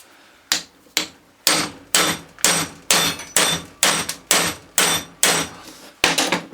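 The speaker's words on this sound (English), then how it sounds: "I'm using this to hammer the shaft down" Loud, evenly spaced hammer blows on a metal alternator shaft from a Ford Transit, about one or two per second, each a sharp ringing strike that fades quickly, with no talking.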